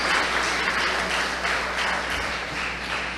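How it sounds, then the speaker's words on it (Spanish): Applause breaks out for a woman after her testimony at a church Bible institute gathering, a dense, steady wash of clapping from a crowd with no one speaking over it. "un aplauso para la hermana"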